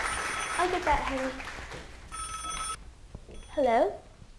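Old-style telephone bell ringing in a home, heard in short bursts with gaps between them, with voices and other sounds mixed in around the rings.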